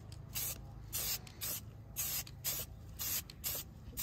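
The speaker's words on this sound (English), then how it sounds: "now we're going to try spray painting these suckers." A spray can paints OneWheel Pint skateboard fenders white in a series of about eight short, crisp hissing bursts separated by brief pauses. The bursts are close and fairly even in length.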